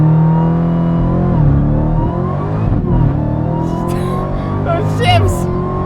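A 2018 Dodge Challenger SRT Demon launching hard and accelerating, its loud supercharged engine roaring steadily with rising revs and a brief shift dip, close and dominant throughout.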